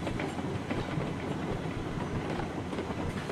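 A train rolling downhill in the video game RailRoads Online, heard as a steady, dense rumble of wheels on rails with faint clickety-clack, moderately quiet and constant, with no voices.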